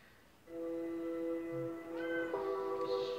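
A cat lets out drawn-out, wailing meows, several rising and falling howls in a row, loud and close with no talking over them.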